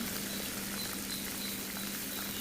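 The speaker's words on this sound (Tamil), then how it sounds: "எல்லாம் மிளகு, ஜீரகம், கருவேப்பிலை, மல்லித்தழை எல்லாம் நல்லா பொரிஞ்சு வரணும் ஃப்ரெண்ட்ஸ்" Pepper, cumin and curry leaves spluttering in hot oil for a Tamil ven pongal tempering: a steady, close crackling sizzle with no pause, no voices.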